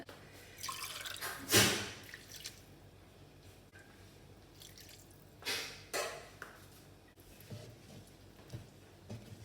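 A few short splashes and sloshes of water come in separate bursts with quiet gaps between, close by and soft.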